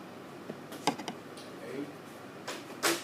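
Keys clatter in scattered short bursts on a classroom computer keyboard during a geometry lesson, faint and close, with quiet gaps between the clicks.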